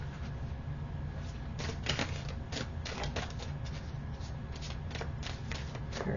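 Tarot cards are shuffled up close in a continuous run of crisp riffling flutters and soft slaps, with no talking.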